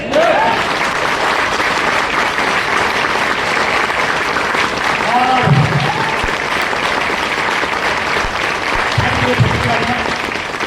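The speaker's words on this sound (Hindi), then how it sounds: "तो एक बार खुले मन से तालियां बजा सकते हैं" A seated crowd at a motivational talk claps steadily and thickly throughout, a continuous wash of applause with a few voices calling out briefly over it.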